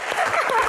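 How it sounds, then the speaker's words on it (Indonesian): A short burst of clapping from an audience at a film Q&A event, steady and fairly loud, with no voices over it. "tepuk tangan"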